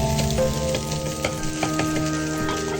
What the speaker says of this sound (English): it helps frying the rice